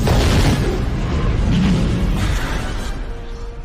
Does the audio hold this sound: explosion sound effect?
yes